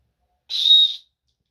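A small plastic whistle built into a paracord survival bracelet clasp gives one short, shrill, steady blast of about half a second, clear and alone.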